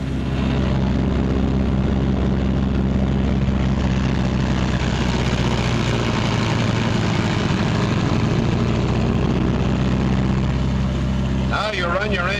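A Martin B-26 Marauder twin-engine bomber runs up on the ground, one engine throttled back to about 1,400 RPM: a loud, steady, close propeller-engine drone with a deep throb that holds throughout, then breaks up briefly near the end.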